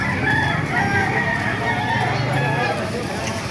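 Many chickens cluck and crow together in a dense, continuous racket, with people talking in the background of a busy, crowded animal market in Baliuag, Bulacan, Philippines.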